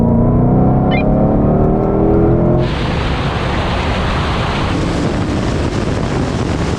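A Mercedes-AMG SLS Black Series and a Ford Mustang Shelby GT500 in a rolling drag race, in manual mode and locked in third gear: a loud, rising engine roar gives way to heavy, steady wind rush.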